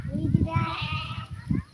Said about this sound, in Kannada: ಟಗರು ಟಗರಿತಾವ ಇಲ್ಲಿ ಟಗರುಗಳು